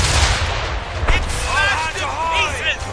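Ship cannon fire in the Assassin's Creed Rogue video game: a sharp blast stands out over a rumbling naval battle, with shouted voices and whistling tones layered through the din.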